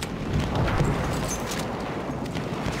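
A grenade explodes in Battlefield 1 on the Sinai Desert map as a dull, rumbling boom. The blast rolls on with a low, sustained roar of battlefield noise.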